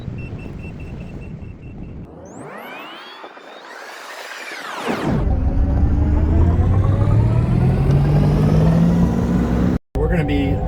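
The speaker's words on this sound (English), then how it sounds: "We're getting ready to load up the skid loader" A skid loader engine runs nearby with a loud, steady low rumble. Its pitch climbs and falls as the throttle changes, with wind buffeting the microphone.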